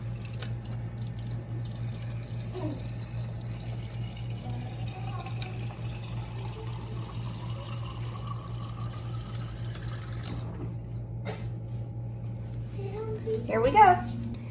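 Tap water runs into a water bottle with a low, steady trickle and occasional splashy gurgles, rising briefly near the end, while a person talks over it.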